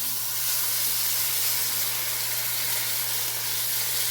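Chopped, diced tomatoes sizzle in a pan, a steady close hiss of frying steam with no break and no voices.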